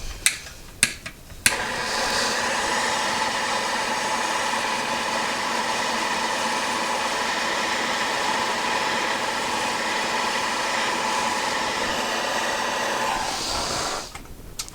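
A heat gun warming a stuck stud on a 2-stroke engine blows with a steady airy whoosh for about twelve seconds after a few sharp clicks, then cuts off.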